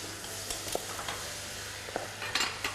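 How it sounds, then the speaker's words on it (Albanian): Potatoes dropped into hot oil for a potato and mushroom soup, a soft steady sizzle with a few scraping stirs and light clinks of a utensil against the pan, fairly quiet throughout. "Ja, hedhim dhe patatet."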